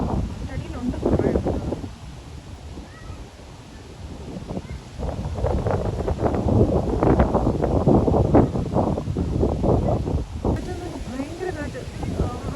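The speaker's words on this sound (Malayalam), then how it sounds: "ഭയങ്കര കാറ്റ്." Strong, gusty wind buffeting the microphone outdoors at Swiftcurrent, rising and falling in loud rumbling bursts while people talk over it.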